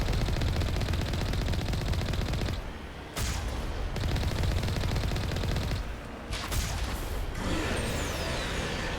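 Gunfire in the video game Mass Effect Legendary Edition: loud, continuous bursts of automatic weapon fire rattle close up, broken by two short pauses before the shooting resumes.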